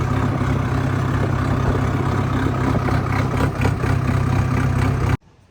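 A steady, rumbling tractor diesel engine idles loudly and continuously, then cuts off abruptly near the end.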